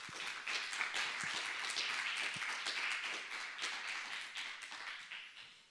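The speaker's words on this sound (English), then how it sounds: "Please a round of applause." A conference audience at a regional forum applauds its speakers, a soft, distant patter of many hands that swells briefly, holds steady, then gradually thins and fades over several seconds.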